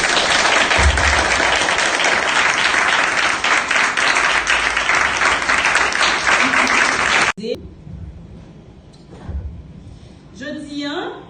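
Loud, dense applause from a crowd at a project launch day, sustained for several seconds before cutting off abruptly, followed by a few scattered sounds and someone talking.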